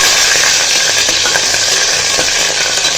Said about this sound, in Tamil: கருவேப்பிலை நம்ம கட் பண்ணி வச்சுருக்கிற பச்சை மிளகா போட்டுக்கலாம் போட்டு நல்லா வதக்கிக்கணும்